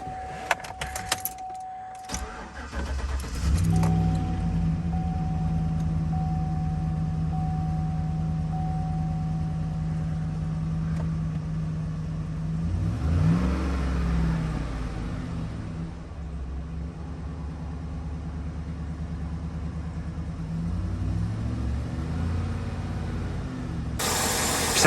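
A 2018 Chevy Silverado pickup with about 80,000 miles, fresh oil and a new battery, starts after a jangle of keys, then settles into a steady, smooth low idle that runs on close by.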